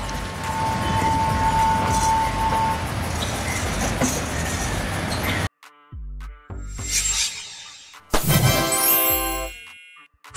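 Railbus running on rails on a rural route: a steady broad rumble of rolling wheels, then a pause followed by ringing metallic dings and clangs and a loud bright burst near the end.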